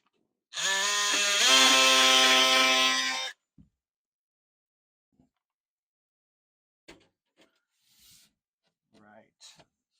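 Something is cut off during a central vacuum installation, giving a loud, buzzing, tonal cut of about three seconds. Near silence follows, broken by a few faint clicks and handling noises.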